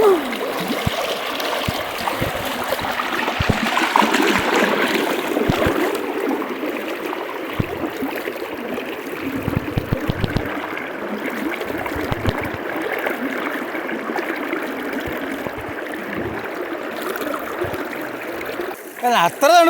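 River water flowing and splashing around someone bathing in a forest river near a dam, a steady broadband rush with occasional splashes, close and continuous, with voices talking over it.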